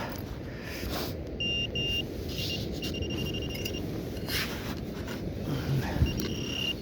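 A metal detector sweeps the ground in a search for 18th-century relics, giving several short high electronic beeps and tones over a steady low rumble of wind and movement.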